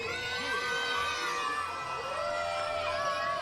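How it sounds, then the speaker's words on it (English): A packed crowd at a Hamilton Cardinals baseball game cheers and shouts in a steady, loud roar, with scattered high yells and whistles rising above the dense wash of voices. "And the crowd is staying with it tonight."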